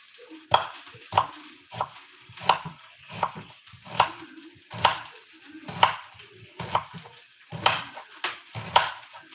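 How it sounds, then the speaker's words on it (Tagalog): A knife chops onion on a board in steady, evenly spaced strokes, about a dozen crisp knocks, close and clear with no talking. "cutting na tayo ng onion"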